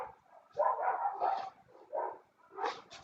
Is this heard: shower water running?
no